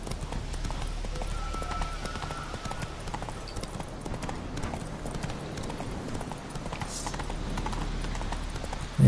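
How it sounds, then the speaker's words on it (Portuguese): Horse galloping in The Witcher 3 video game, a rapid rhythmic clip-clop of hooves running steadily and fairly close throughout, with a brief neigh partway through. "tá querendo fugir de mim a cavalo"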